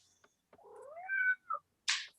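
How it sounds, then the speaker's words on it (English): A cat lets out a drawn-out, wavering meow followed by a shorter chirp during an online planning committee meeting, heard close and clear with no talking over it. "The cat had a comment."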